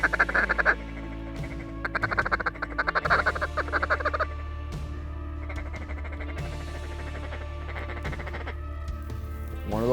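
Ducks calling, likely mallards, near a pond during an evening hunt as flocks fly in, with repeated quacking loud in bursts over a steady low background drone.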